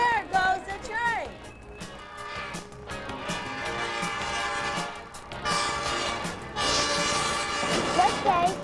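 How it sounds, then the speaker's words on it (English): A train rolls past with long sustained horn blasts swelling and fading over a rumbling, clattering bed, with voices talking over it. "There goes the train."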